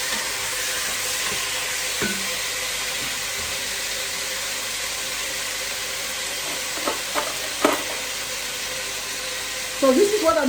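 Chicken and peppers sizzle steadily in a hot pan, a broad continuous hiss with occasional clinks and stirring scrapes, and a louder clatter of the food being moved near the end; a voice talks briefly.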